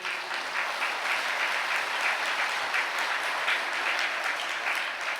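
A Catholic church congregation applauding together, a steady dense wash of clapping that holds at an even level for several seconds with no voices above it.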